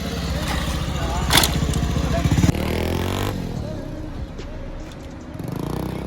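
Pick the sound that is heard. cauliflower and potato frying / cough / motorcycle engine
motorcycle engine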